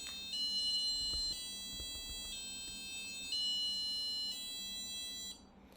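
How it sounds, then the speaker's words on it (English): A motion detector alarm's steady electronic buzzer beeps in long repeated pulses, loud and close, then cuts off abruptly near the end. "my hand just now just go near it, it will actually sound the buzzer"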